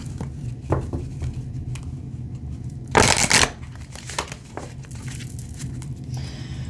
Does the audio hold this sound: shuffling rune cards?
yes